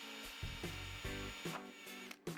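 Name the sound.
drilling small holes in a moulded plastic tool case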